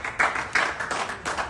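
A handful of claps ring out for guests at an award ceremony, a few sharp, uneven slaps that are close and short-lived.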